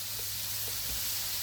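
Pre-cooked, peeled shrimp with no tails sizzle on a hot hibachi griddle, a steady close hiss of frying that holds evenly throughout with no talking.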